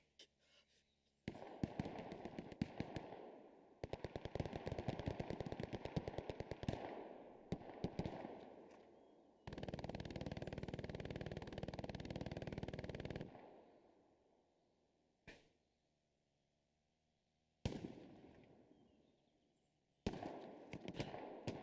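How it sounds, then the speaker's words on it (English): Hell Let Loose, a World War II shooter, delivers crackling bursts of rapid gunfire and heavy grenade blasts in a ruined city, loud and close, broken by short silent gaps and single sharp reports. "Nice nade there from Big Al."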